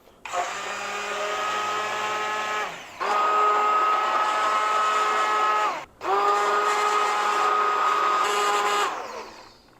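A blender purees loaded potato soup with a loud, steady motor whine, running in three long bursts separated by brief dips, close and alone with no talk.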